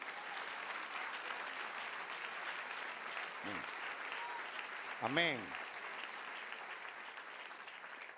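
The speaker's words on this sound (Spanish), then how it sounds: "Y darle un aplauso al Señor." A church congregation applauds, a steady wash of clapping running throughout while someone speaks over it near the middle.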